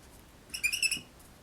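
A brief, high squeaky chirp of a blending pen rubbing across paper, a few quick rubbing squeaks in a row, close and fairly quiet.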